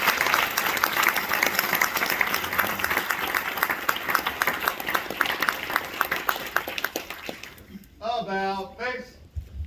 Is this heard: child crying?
no